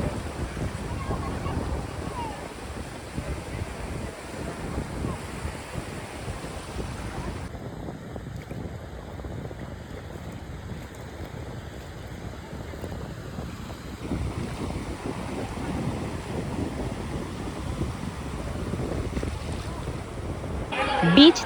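Surf rolls steadily onto an empty beach at Mandarmoni, a broad continuous wash of waves mixed with gusty wind buffeting the microphone, fairly even throughout with a brief louder rush near the end.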